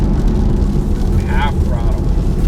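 A 2015 Porsche 911 Turbo S on wet roads pulls at half throttle, a steady loud rumbling drone heard from inside the car, with a person speaking briefly over it.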